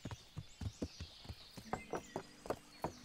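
A horse's hooves clop across a wooden bridge in Kingdom Come: Deliverance, giving an uneven run of hollow thuds at close range with no talk over them.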